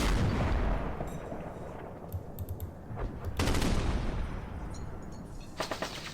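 Heavy guns go off in the Panzer Campaigns Kiev '43 wargame, a deep rumbling blast at the start followed by scattered sharper shots and clicks, with no voices.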